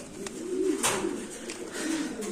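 Pigeons coo softly nearby, a low burbling call over faint background noise.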